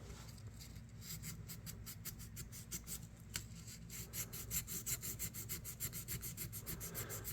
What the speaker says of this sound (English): just sand on those little areas there. We'll get rid of the rust on there.